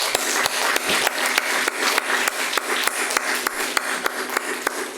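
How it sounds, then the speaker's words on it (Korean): Congregation applause during a Sunday church worship service, steady sustained clapping from a crowd with some sharper individual claps standing out. "큰 박수로."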